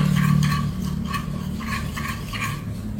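Batter for a cookie-style sponge cake being stirred as it melts and loosens in a bowl, giving a steady scraping, rubbing swirl in regular strokes under a low constant hum, close and fairly quiet, with no talking.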